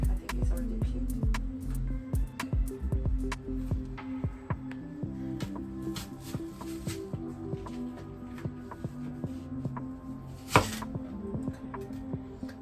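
Knife chopping onion on a cutting board in a home kitchen, a quick run of close, sharp knocks at first that then thin to scattered taps, with a low hum underneath.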